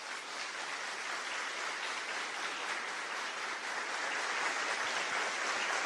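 A church congregation at a Catholic homily on marriage applauds in a dense, even, distant roar of clapping that holds steady throughout with no voices on top.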